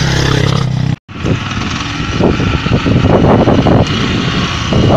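A motorcycle carrying two riders labors along a muddy, drizzly dirt road near La Cruz, Córdoba, its engine droning loud and close with uneven throttle surges, briefly cut off near the start.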